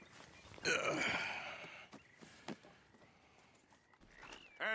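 In the video game Red Dead Redemption 2, hooves clip-clop in a short irregular burst alongside a horse's snort and movement, followed by scattered soft thuds and a brief whinny-like squeal.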